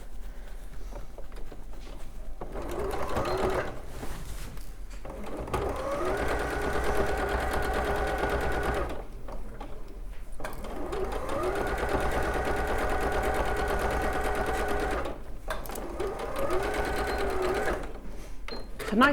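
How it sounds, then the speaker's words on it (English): Sewing machine stitching a seam on a quilted bag piece, running in several long bursts of rapid mechanical chatter separated by short pauses, close and steady. "we're going to stitch along that top bit now as well"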